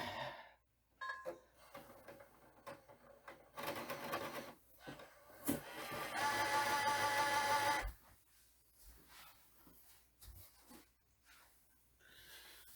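The disc drive of an Xbox One tries to read a damaged disc, giving faint mechanical whirring, scraping and clicking. The noises come in uneven bursts with a louder steady spin near the middle of the clip, and no one speaks.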